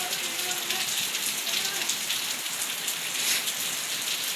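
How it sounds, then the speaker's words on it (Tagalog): Light rain falls steadily on surfaces, with a continuous soft patter and scattered drops and no voices. "Hinay na ang ulan"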